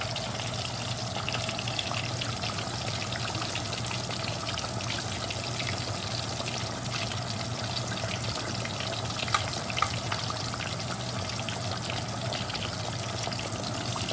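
Thai style pork chops fry in a pan with a continuous even hiss and sizzle, steady and close for the whole stretch, with a few faint pops and no talking.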